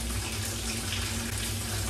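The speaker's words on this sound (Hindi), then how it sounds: "ये वाला अगर मैं नॉब घुमाऊंगा ना, देखो पानी चल गया, वापस बंद।" Water running steadily from a hotel bathtub tap, a continuous close hiss and gush that carries on evenly without pause.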